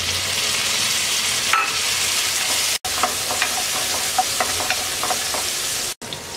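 Chopped onion and tomato frying in a pan for a Bengali fish and vegetable curry, a steady loud sizzle with scattered stirring clicks and two abrupt cuts in the sound.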